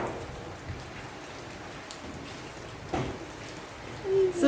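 Heavy rain falling outside on a cold day, a steady hiss of drops on surfaces with a few louder splashes, plus brief bumps and a short tone near the end.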